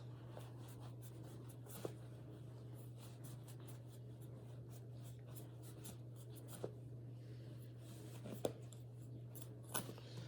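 A piece of homemade cloth is cut with scissors in a quiet room, giving faint, scattered snips and scrapes over a low steady hum.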